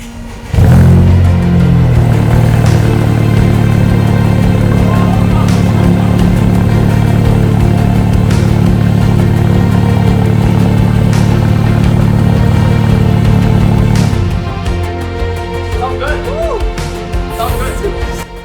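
A totaled Honda Civic Type R with a straight-pipe exhaust starts up and revs, a loud, close, sustained engine roar that holds for about fourteen seconds before easing to a lower idle, with people talking over it.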